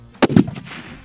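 A single rifle shot fired at a long-range target 300 yards away, a sharp loud crack followed by a short rumbling echo that fades over about a second.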